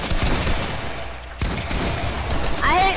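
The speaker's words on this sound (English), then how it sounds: "Oh, they shot me." Bursts of rapid gunfire crackle in a Fortnite 2v2 match, dense and loud at the start and again after a sharp break, with a chirpy game effect near the end.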